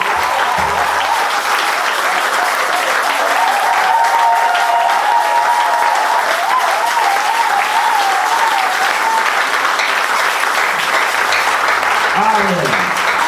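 Church congregation at a worship service bursts into sustained applause and cheering for the Lord, a dense steady roar of clapping with voices mixed in throughout.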